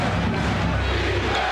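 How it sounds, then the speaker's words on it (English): A capacity crowd at Madison Square Garden chants for defense during a 1993 Knicks versus Bulls playoff game, a dense, steady roar of many voices filling the arena without a break. "The chant of defense from this capacity crowd of the Garden."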